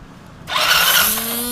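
Fuel pump motor on a Hero Splendor BS6 E20 motorcycle starts with a sudden whirring buzz that settles into a steady high electric hum, heard close up with no talking.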